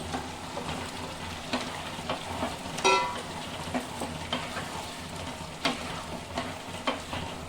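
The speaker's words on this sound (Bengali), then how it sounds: "এখন আমি এখানে আলু দিয়ে দিব।" Mutton frying and being stirred in a pan as potatoes are added, a steady sizzle with scattered scraping and stirring knocks and one brief sharper clatter near the middle.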